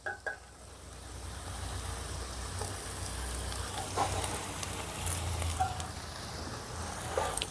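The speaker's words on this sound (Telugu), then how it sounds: "ఇప్పుడు ఇందులో మనం ముందుగానే ప్రిపేర్ చేసి పెట్టుకున్న రైస్ వేసేసుకుందాం" Pre-cooked rice tipped into a pan of fried garlic and chilli, giving a steady close sizzle of hot oil with a few soft scraping clatters as the grains land and settle.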